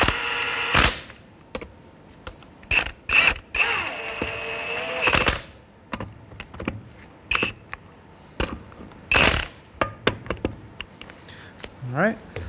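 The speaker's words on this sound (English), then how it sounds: "Come in here with our 19 millimeter. Just snug these up." Hand ratchet with a 19 mm socket snugging lug nuts on a 2003-2011 Honda Element, close bursts of rapid clicking between pauses, with a voice talking.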